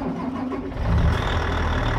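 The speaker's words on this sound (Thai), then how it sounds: "ลองสตาร์ทเครื่องดู" A small sugar beet harvester in a farming simulator game starts up, a brief cranking rise settling into a low, steady engine rumble that grows louder and holds.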